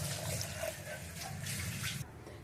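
Water pours steadily into a cooking pot for kodo millet egg biryani, a continuous splashing rush that runs for about two seconds and then cuts off, with no one speaking.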